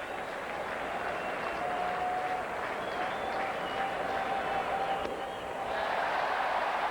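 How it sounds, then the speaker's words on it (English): Stadium crowd at a 1993 Phillies at Expos baseball game in Montreal during a late-season pennant race, a steady broad roar of cheering that swells louder near the end, heard at a distance with no talk. "the crowd gets louder with every ball that's been thrown"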